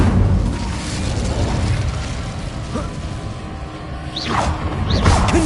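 A fire spell cast in Hogwarts Legacy on PlayStation 4 Pro: a steady rushing, crackling burst of flame with a couple of rising whooshes near the end, fairly loud with no talk over it.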